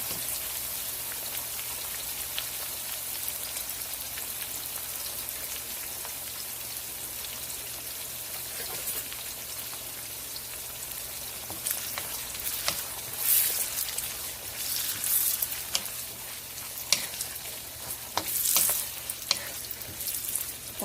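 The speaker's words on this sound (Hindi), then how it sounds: "2 बड़े ऑनियन ये काट के हम डाल देंगे। और इनसे पहले हम अच्छे से जो है वो" Two large chopped onions frying in a cup of oil for a degh-style chicken korma, giving a steady, dense sizzle throughout with louder crackling pops building toward the end, no talk.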